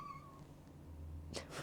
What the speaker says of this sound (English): sorry if you can hear my cat meowing.